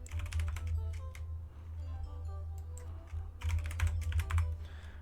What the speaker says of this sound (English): I have to type it out.